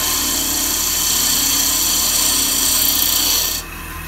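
A lathe tool cuts steadily into spinning butternut wood, fed in like a drill bit, with a loud, continuous rasping scrape that drops off abruptly near the end.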